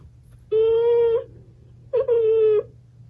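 A Chongker Percy interactive robot dog toy gives two short electronic whining cries with a steady tone, the second briefly broken at its start, over a faint low hum.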